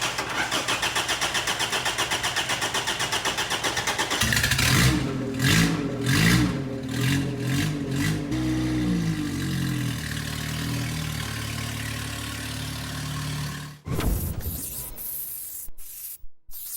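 An old truck engine cranks with a rapid rhythmic churn, catches, revs and then settles into a rough idle, close and loud, with clunks near the end.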